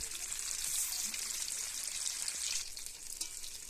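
Paneer cubes fry in hot oil in a pan, giving a steady, close, dense sizzle and crackle that holds throughout with slight swells and no talking.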